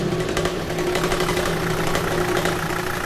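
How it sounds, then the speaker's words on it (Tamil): A vehicle engine idles with a steady, mid-low rumble and a faint rhythmic knock, loud and close, running continuously without pause. "வண்டி வந்துருச்சுமா"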